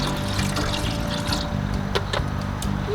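Water runs steadily into a cooking pan on a stovetop set up atop a dam, a continuous close pour with a few small splashes and no talking.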